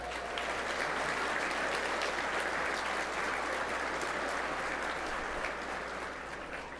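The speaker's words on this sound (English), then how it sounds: "Another round of applause." An audience at a Special Olympics New Hampshire champions breakfast applauds in a steady, dense wash of clapping that holds for several seconds at moderate distance and fades slightly at the end.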